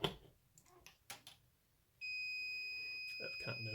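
A multimeter in continuity mode gives a steady electronic beep lasting nearly two seconds while wiring pins on a 2009 Ford F350 6.4L Super Duty instrument cluster are probed; brief talk comes before it and resumes under its tail.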